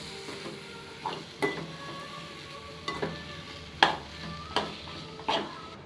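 Mashed potato is stirred into masala in a pan, a spoon scraping and clinking against the metal in irregular strokes over a soft background sizzle.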